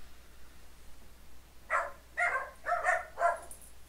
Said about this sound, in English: Dogs. I hate dogs.